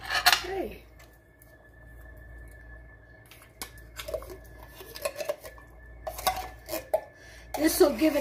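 Ingredients for a turkey pot pie filling stirred in a cooking pot, with sparse metallic clinks and scrapes of a utensil against the pot over a quiet background, a few sharper clatters near the start and end.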